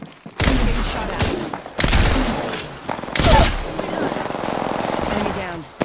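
Gunfire in a battle royale match, several sharp loud bursts landing in quick succession with short pauses between, followed by a sustained rattling stretch; game voice lines sound between the shots.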